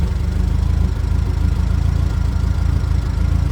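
A Hyster forklift engine idles steadily after starting, a close, loud, continuous low rumble with an even chugging pulse throughout.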